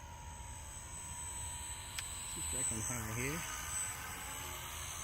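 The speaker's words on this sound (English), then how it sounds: "So this helicopter is perfect for beginners." An Esky 300 v2 mini six-channel remote control helicopter flying outdoors in some wind, its thin rotor and motor whine faint and steady under someone talking.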